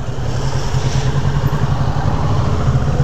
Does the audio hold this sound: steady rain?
no